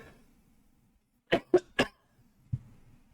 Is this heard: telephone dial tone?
no